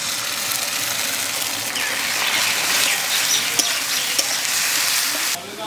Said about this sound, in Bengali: এখন দেবো আদা রসুন বাটা।